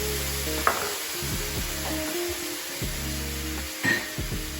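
Brussels sprouts sizzling steadily in a hot pan, a continuous close frying hiss broken by a few sharp clinks and scrapes of stirring, with no voices.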